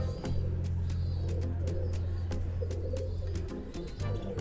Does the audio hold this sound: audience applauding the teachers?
no